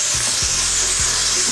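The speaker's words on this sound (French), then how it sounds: "Voyez le comportement de nos légumes dans l'huile de friture." Purslane and other vegetables fry in hot oil with a loud, continuous sizzle, punctuated by a few low knocks from stirring in the pan.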